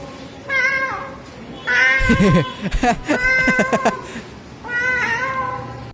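A man imitates a cat with his voice, giving several drawn-out meows including a longer wailing stretch in the middle, loud and close, alone without other sounds.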